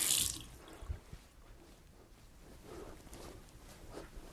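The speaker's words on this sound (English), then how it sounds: "Now I'm going to just add a little bit of water to the front of my hair." Water is added to the front of the hair before round-brush styling, heard as a faint splash and trickle near the start, followed by soft, quiet dripping and wet handling sounds.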